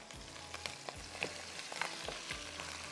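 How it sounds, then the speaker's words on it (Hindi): Minced chicken frying in a pan with crushed red chillies, a quiet steady sizzle broken by soft rhythmic scraping stirs. "थोड़ा सा इसमें मैं जो है वो कीमा चिकन शामिल करूंगी"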